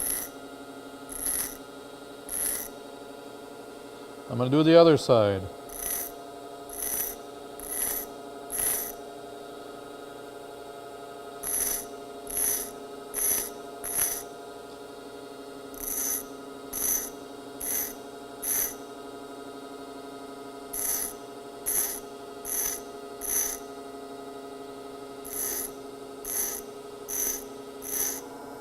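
A drill bit being sharpened on a grinding wheel: repeated short grinding scrapes pulse at a steady rhythm over a constant motor hum, with one brief rising whine partway through and a voice speaking briefly.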